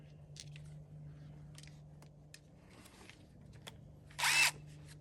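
A quiet background hum, then near the end a brief, loud whir of a power drill bursts in for under a second.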